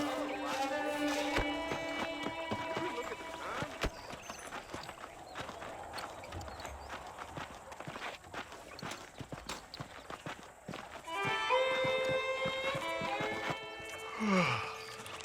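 Horse hooves clip-clop at a walking pace in the western video game Red Dead Redemption, a steady rhythmic patter through the stretch, with a whinny and snort near the end and game music and ambience around it.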